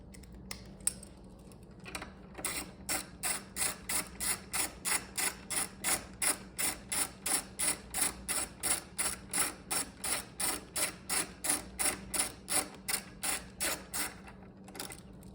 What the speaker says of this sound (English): I'll switch to my 8mm. Tighten down my battery hold down.